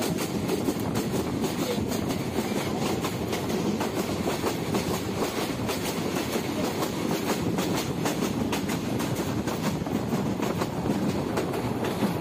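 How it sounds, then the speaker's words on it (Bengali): The Tista Express train runs on rails from Dhaka's Kamalapur station, a loud continuous rumble with rapid clickety-clack wheel beats throughout, close and with no voices. "ঢাকার কমলাপুর রেল স্টেশন থেকে ট্রেনের যাত্রা দেওয়ানগঞ্জ পর্যন্ত।"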